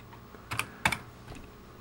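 Typing on the keyboard of an HP-85A computer: a few sharp key clicks, two clustered strikes close together followed by a fainter one, close and fairly quiet in a quiet room.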